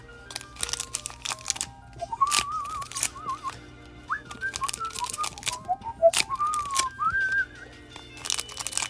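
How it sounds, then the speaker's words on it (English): A person whistles a wandering, warbling tune in several short phrases, fairly close, with clicks and clatter in the background. "I shouldn't be whistling"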